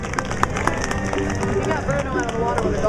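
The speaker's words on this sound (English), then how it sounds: "let's give her a big round of applause" An outdoor crowd at a fairground bear show breaks into dense, continuous clapping and cheering, close and fairly loud, with a voice speaking over the din.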